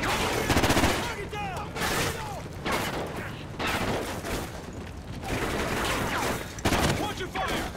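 Heavy, continuous automatic gunfire from a Call of Duty Ghosts campaign battle, loud overlapping bursts and ricochet whines packed tightly together, with shouted voices buried in the din.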